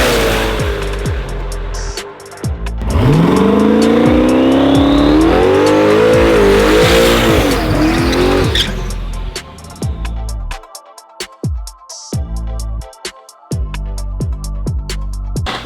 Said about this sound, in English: we are talking about doing burnouts today